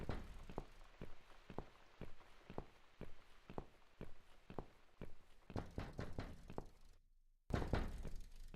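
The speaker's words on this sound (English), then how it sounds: "Someone's at the door." Knocking on a door in The Cat Lady video game: a long series of evenly spaced dull thumps, fairly faint, ending after a short gap in louder knocks.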